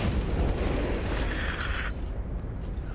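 In the Vampire: The Masquerade - Bloodlines video game, an explosion sounds as a loud, dense rumbling burst that holds for about two seconds and then eases into a lower, duller roar.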